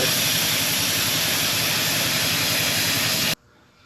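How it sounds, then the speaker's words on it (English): Loud, steady mechanical roar and hiss of air compressors running continuously, then cutting off abruptly near the end, leaving a quiet background. "Compressors are running, we're making all kinds of noise here."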